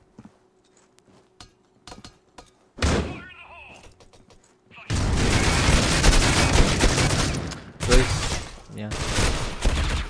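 Gunfire in the mobile shooter Critical Ops: a few scattered sharp shots, then loud sustained bursts of rapid fire for several seconds, with a player's voice talking underneath.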